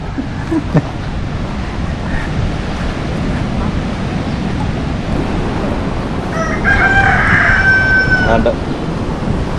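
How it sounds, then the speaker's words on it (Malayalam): A rooster crows near a beach in the Marshall Islands, one clear drawn-out call near the end over steady surf and background noise, with a voice talking over it. "കോഴിയൊക്കെ നിന്ന് കോവുന്നുണ്ട് കേട്ടോ"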